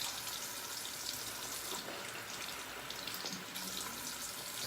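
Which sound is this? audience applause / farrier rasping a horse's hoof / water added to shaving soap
water added to shaving soap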